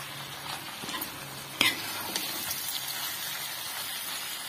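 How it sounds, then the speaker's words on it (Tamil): Pepper brinjal fry is stirred in a pan over a steady sizzle, with a sharp metallic scrape and clink about a third of the way in and lighter scraping after. "இப்ப நல்லா மிக்ஸ் பண்ணிக்கங்க."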